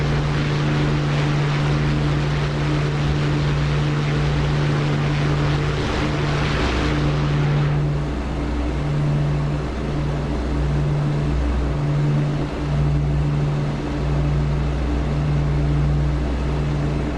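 Aircraft landing gear and flaps retracting in the DCS flight simulator game, heard as a steady loud engine drone with a mechanical whine that drops off partway through.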